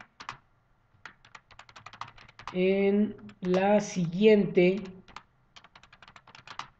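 Light clicking of a computer keyboard during an online statistics class, soft taps scattered before and after a person speaking, partly under the voice.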